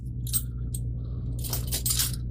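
Metal keys jangle and clink in short bright bursts near a fixed motor hum, with one small chink early and a louder cluster of rattling near the end.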